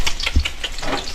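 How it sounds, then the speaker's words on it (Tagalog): Garlic and onion sautéing in a pan for a tilapia dish with kamias, giving a steady close sizzle and crackle with a few brief stirring clinks. "igigisa niya muna sa bawang sibuyas"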